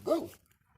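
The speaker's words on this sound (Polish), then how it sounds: "Tu, prawda, pieski urzędują" A single short dog bark, fairly close and clear, followed by near silence; the dogs are in a fruit garden with strawberries, raspberries and honeyberry bushes.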